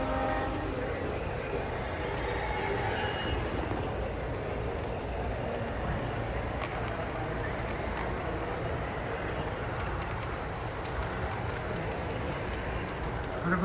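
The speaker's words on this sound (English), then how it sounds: "There goes that one, green train." Model trains run through the Traintopia display in Frisco, Texas, including a green train, a yellow one and a diesel, giving a steady rumbling clatter throughout, with bird calls and people chatting nearby.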